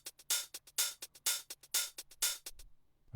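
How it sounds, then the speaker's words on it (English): A programmed hi-hat drum sample pattern in a studio beat, heard alone with no talk: bright, crisp metallic ticks in a steady rhythm, with longer open hits alternating with short closed ones over about three seconds. "And here I have my hi-hats."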